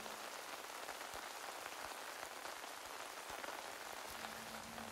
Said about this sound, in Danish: Regnen siler ned omkring dig, møder paraplyens buede stof, som skaber blide, rytmiske, nærmest shamanistiske trommelyde.